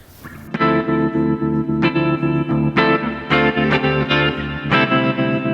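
An electric guitar plays sustained chords through a Behringer UT300 tremolo pedal, with a pulsing, wavering volume effect, loud and continuous, with a few fresh strums along the way.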